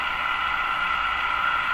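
Steady, dense hiss from a modulated noise signal on an Electrohome Cosmic tube radio, constant and even in level throughout, fairly close, with no talking.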